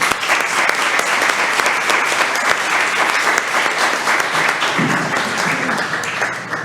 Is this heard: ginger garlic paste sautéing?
no